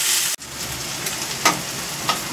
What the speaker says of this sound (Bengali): পেঁয়াজটাকে একটু ভেজে নেব।